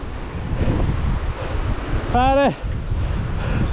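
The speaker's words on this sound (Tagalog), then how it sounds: "Lakas lang ng hangin." Strong wind buffets the microphone with a steady roar while travelling over flat open ground with a scenic view, continuous and loud, as a man calls out briefly over it.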